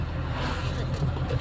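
A KSRTC bus rolls past on a road with a steady, close engine rumble and broad road noise that holds throughout without a clear rise or fall.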